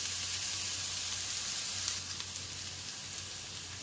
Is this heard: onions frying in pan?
yes